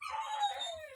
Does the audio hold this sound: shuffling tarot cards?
no